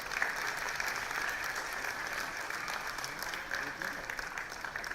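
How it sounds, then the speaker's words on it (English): Audience applause at the Hope Qatar Centre 19th annual day, honouring students and mentors: a steady, dense wash of clapping from a large crowd that holds evenly throughout, with faint voices mixed in. "Come on, guys, a large round of applause."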